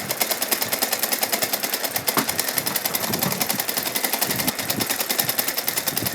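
An electric sewing machine runs continuously, stitching a fabric strip onto the lining of a small festive doll outfit, its needle hammering out a fast, even mechanical rhythm close by, with no voices.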